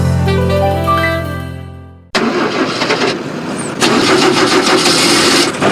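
A car engine cranks and catches, then runs at a steady, fairly loud idle with a slight rise in revs near the end, all without any voices.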